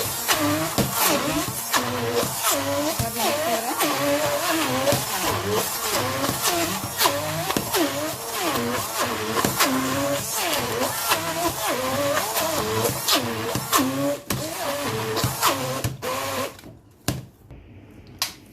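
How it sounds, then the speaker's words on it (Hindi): An electric hand mixer works through a chicken shami kabab mixture, a loud continuous whirring motor with rhythmic pulsing as the beaters churn, running steadily for most of the stretch before stopping near the end. "हमने इसको हैंड मिक्सर से किया है और बहुत अच्छे से ये चीज़ें सारी मिक्स हो चुकी हैं।"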